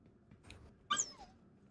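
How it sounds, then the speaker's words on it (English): A dog whimpers with a brief, high-pitched whine, heard faintly and close by, rising out of quiet room tone and then trailing off. "Yes, I hear you, dog."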